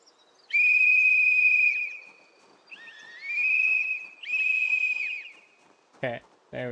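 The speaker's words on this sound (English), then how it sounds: "whistle warning" A video game warning whistle blows, loud, near and shrill, in three long sustained blasts with brief gaps between them, followed by short clattering noises.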